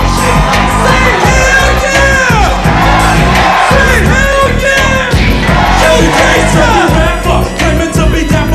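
Live concert crowd at a Compton rap performance cheering, yelling and whooping loudly and continuously, a dense roar of voices over pounding hip-hop music throughout.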